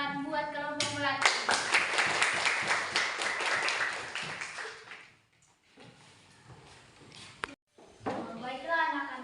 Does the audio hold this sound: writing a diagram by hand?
no